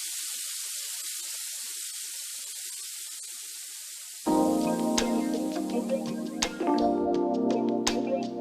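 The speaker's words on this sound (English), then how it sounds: "You're going to let it fry on each side for about 4 minutes." Chicken wingettes drop into hot oil in a pan and burst into a loud, dense sizzle with crackles and pops, after a few seconds of quiet hiss.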